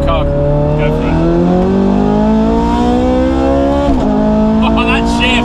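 A Ferrari 430 Scuderia accelerates away, its engine howling loud and high with rising pitch through the gears, a brief shift break midway, then climbing again into a fading race-car wail.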